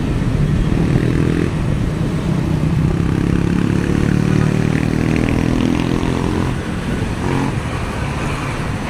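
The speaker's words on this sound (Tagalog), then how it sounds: "Minglanilla traffic situation." Loud, close road traffic in Minglanilla, Philippines on Labor Day: idling car engines and motorcycles rumble continuously, with a low engine drone swelling and fading and scattered clatter throughout.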